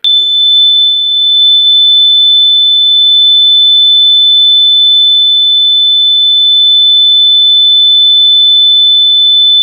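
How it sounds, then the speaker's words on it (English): A home fire alarm sounds continuously, a loud, steady, piercing high-pitched electronic tone that holds unbroken for nearly ten seconds with no other sound. "I think that may be my fire alarm."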